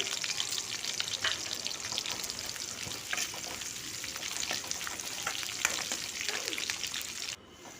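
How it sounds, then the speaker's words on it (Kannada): Onion and green chillies frying in a pan with dried red chillies for a leafy-greens sambar, a dense continuous sizzle with scattered crackles and pops, close and steady until it drops away at the very end. "ಹಾಕೊಂಡು ಸ್ವಲ್ಪ ಚೆನ್ನಾಗಿ ಫ್ರೈ ಆಗಿದೆ ನೋಡಿ ಚೆನ್ನಾಗಿ ಫ್ರೈ ಮಾಡ್ಕೋಬೇಕು"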